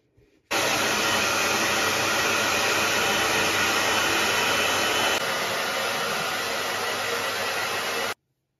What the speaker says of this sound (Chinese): 头发吹干了